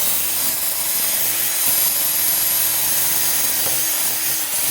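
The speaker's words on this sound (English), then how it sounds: "For starters, we're just going to use this bristle brush" A steady, harsh whirring grind of a bristle brush spinning on a cordless drill, removing rust from a 1978 BMW R 80/7 motorcycle frame, continuous and fairly loud with no pauses.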